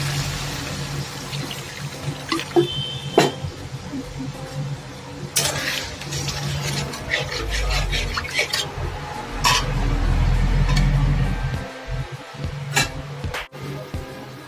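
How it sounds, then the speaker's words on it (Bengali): Water poured into a pan of Bengali yogurt fish curry after the spices are fried, a low steady pouring and sizzling rush swelling midway amid clinks of utensils and kitchen clatter. "এবার জল দিয়ে দিলাম।"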